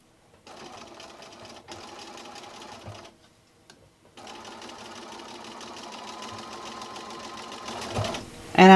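A sewing machine stitches binding onto a quilt, a close, steady mechanical whir of rapid needle strokes that pauses briefly twice before resuming and ends with a louder clunk.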